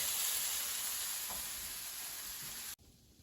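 Continuous loud sizzling of Brussels sprouts frying in a pan, a steady bright hiss that cuts off abruptly near the end, leaving quiet.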